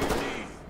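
Gunfire in the tactical shooter game Ready Or Not: a brief, dense burst of shots, loud and continuous, with no talk over it.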